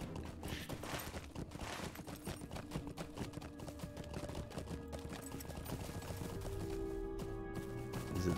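Horse hooves clip-clop in the online game The Lord of the Rings Online, a faint, steady rhythmic trot with soft mechanical clicks and no talk.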